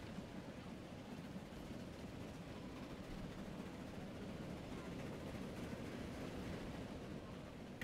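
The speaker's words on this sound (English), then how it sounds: "this train is currently right along here, chugging along" A train rolls along a line in the Transport Fever game, a faint, steady rumbling wash that runs unbroken throughout with no voices.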